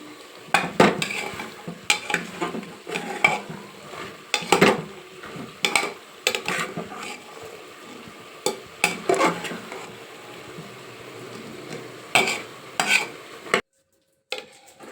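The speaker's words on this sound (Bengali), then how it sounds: "ঘুগনিটা ভালো করে নেড়ে নিই।" Ghugni stirred in a pan with a metal spoon: repeated close clanks and scrapes in an uneven rhythm over a low sizzle and simmer, ending in brief silence.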